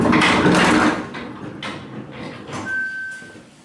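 The door of a Mitsubishi traction service elevator slides along its track with a loud rumbling rush that fades into quieter mechanical hum and a thin whine. There is no talk.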